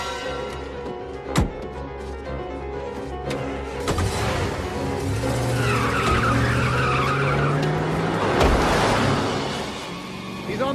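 A car speeds off in a movie chase, its tires skidding and squealing loudly over engine roar, with a few thuds and brief shouted voices.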